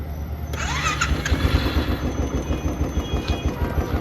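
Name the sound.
Royal Enfield Thunderbird 350 motorcycle electric self-start and engine running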